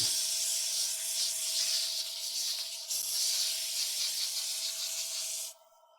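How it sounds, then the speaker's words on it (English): A turned wooden box sanded on a spinning lathe with 120 grit sandpaper: a continuous close, loud abrasive hiss over the lathe's steady hum, briefly broken once, then cutting off near the end. "there's a piece of 120 grit that looks somewhat fresh, so we'll start with that, and we're going to slow the speed down"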